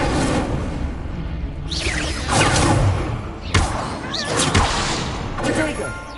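Incendio fire spell cast in Hogwarts Legacy on PS5: a run of loud whooshing bursts and heavy thuds, several close impacts spread across the stretch over continuous game background.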